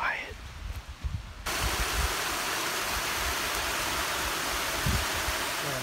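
A waterfall on a mountain hike roars as broadband rushing water, starting after a quieter opening with a voice, then holding steady and loud to the end.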